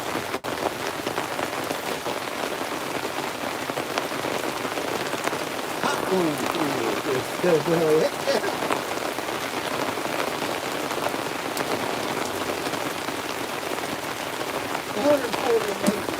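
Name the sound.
rain falling during outdoor gold sluicing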